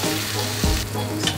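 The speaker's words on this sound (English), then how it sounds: "You just want like nice foaming butter, not too hot, because it will burn." Butter foams and sizzles steadily in a pan, a close, continuous frying hiss with a brief bump partway through.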